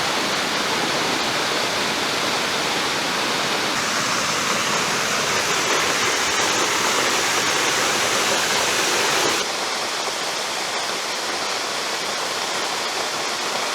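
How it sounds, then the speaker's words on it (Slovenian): A 17 m high waterfall, the fourth falls in the Pekel gorge, roars as a loud, steady rush of falling water heard up close, continuous from start to finish. "Mislim, da je 17 metrov visok četrti slap."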